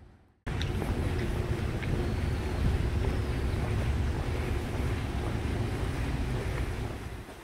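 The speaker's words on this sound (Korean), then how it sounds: "얼마 전 비가 와서 물소리가 제법 크네요" Steady, loud rushing water fills the scene without a break, a broad wash of flow with a gusty, noisy edge, from a stream swollen by recent rain beside a forest trail bridge in Korea.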